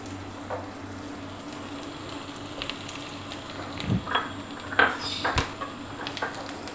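Chopped nuts frying slowly in desi ghee over low heat, a soft steady sizzle with occasional clinks and scrapes of stirring, close and quiet with no talking.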